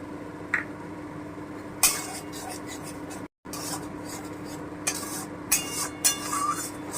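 Moong dal is stirred into a pan of oil and spices, making soft scraping and occasional clinks of a spoon against the pan over a low, steady sizzle.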